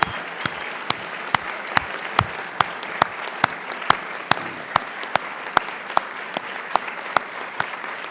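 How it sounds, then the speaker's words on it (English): Sparse, isolated hand claps ring out at a formal awards ceremony, the Stimson Medal presentation, steady and evenly spaced over a quiet room rather than a full crowd roar. "Please join me in giving them a round of applause."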